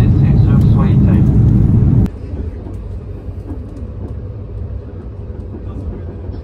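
An airliner cabin during descent toward landing in France: a loud steady engine roar at first, then a sudden drop to a quieter low rumble with faint cabin noise.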